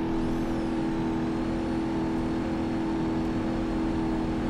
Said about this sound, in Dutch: Hij maakt wel ontzettend veel toeren.